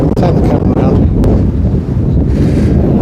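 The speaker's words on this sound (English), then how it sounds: "I don't know if you can hear much because it is so windy up here" Strong wind buffets the microphone on Benfield Hill in the South Downs, a loud, constant low roar and gusty rumble, heard throughout with no pause.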